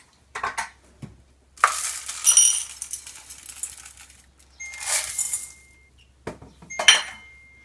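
Mini chocolate chips pour into a bowl for paleo cashew-almond date balls in several short, bright rattling bursts of small pieces clinking, separated by near silence, close up.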